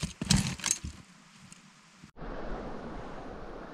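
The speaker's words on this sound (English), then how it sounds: "Big chunks of slush coming down the river." A river carrying big chunks of slush and ice rushes and churns, starting with close splashing and sloshing, then after a brief gap settling into a steady, louder wash of flowing water.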